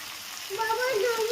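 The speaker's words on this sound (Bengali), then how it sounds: "বেচারি খুব কষ্টে রুটি ভাজছে" Roti fries in hot oil with a steady, close sizzle while a voice sounds briefly over it.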